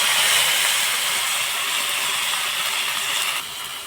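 Ground spice paste with cumin sizzling in hot oil for a Bengali raw banana fritter recipe, a loud, steady hiss close by that fades slightly toward the end.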